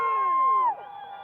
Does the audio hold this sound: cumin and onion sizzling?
no